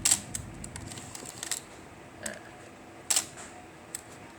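Olympus OM-2 film camera shutter release and film advance lever, a few sharp mechanical clicks and ratcheting winds, with a loud pair of clicks at the start and another around the three-second mark, close and quiet between.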